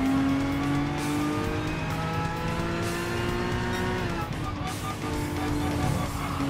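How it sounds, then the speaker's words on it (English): A Gran Turismo race car's engine revs and drones from the interior view, a loud, sustained tone rising and falling with gear changes, with faint tire squeal beneath and no talking. "Definitely sounds like a Gran Turismo car, but slightly improved. Not as much of a vacuum noise."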